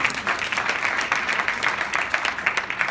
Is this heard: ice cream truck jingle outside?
no